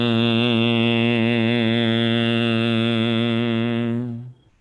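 Master Mingtong Gu chants a single drawn-out "shin" as a meditation sound. The steady, rich-toned voice holds loud and even for about four seconds, then fades quickly into quiet.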